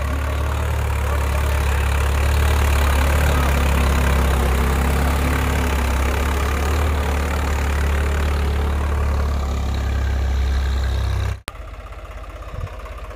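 A Swaraj 855 4x4 tractor engine runs steadily in two-wheel drive, a loud continuous low rumble with no voices, cutting off abruptly near the end to a brief quieter tail.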